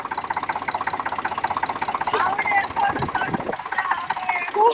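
A tractor engine idles with a rapid, regular throbbing chug, fairly close and loud, while voices talk and call out over it.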